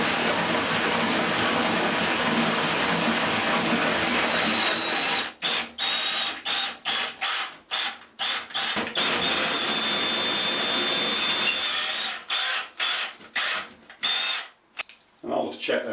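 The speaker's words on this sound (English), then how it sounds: "So I'm going to have to enlarge the holes slightly. I'm going to the next drill size up" A power drill bores through ceramic wall tile, widening 14mm holes to 16mm with a steady, loud, grinding whine for about five seconds before breaking into a rapid series of short stop-start bursts.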